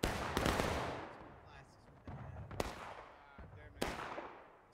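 Musket volleys crackle in a Civil War battle game at Bloody Lane, with a few sharp, echoing bursts of massed rifle fire rolling out at moderate distance and trailing off between shots.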